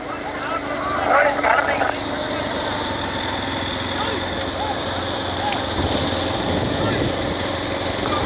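Engines drone and rev steadily, high-pitched and buzzing like small motorbikes, at a motorbike race in Veppankulam, Ramanathapuram district, with crowd noise and a brief shout mixed in.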